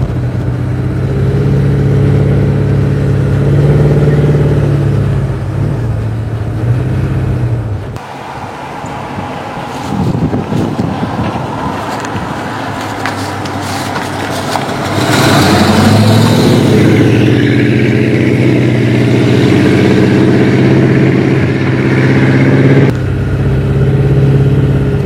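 A 1972 Ford Ranchero 500 with a 335 hp V8 rumbles close and loud, idling then revving in surges with a brief dip before climbing again over about twenty-five seconds.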